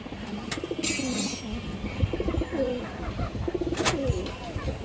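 A Muslodom pigeon, a full down-shape male, coos in soft low repeated phrases close by, while someone talks over it and brief sharp noises break in now and then.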